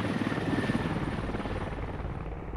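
A helicopter in the Squad video game on the Gorodok map flies nearby, its steady rotor thrum and engine whine holding a constant moderate level with no talk.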